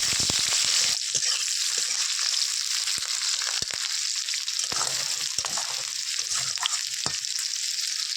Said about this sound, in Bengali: প্রথমে পেঁয়াজ কুচি, লঙ্কা কুচি দিয়ে ভালো করে নাড়াচাড়া করে নেব